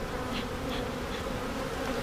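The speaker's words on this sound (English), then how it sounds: "This box definitely has more bees than I initially thought." Honeybees drone steadily inside an opened hive box during a beekeeping inspection, a continuous close buzz with faint wingbeat pulses and no speech.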